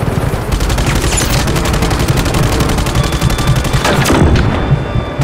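Rapid, dense gunfire from the video game Just Cause 3 rattles continuously, loud automatic bursts with booming impacts, no talk heard over it.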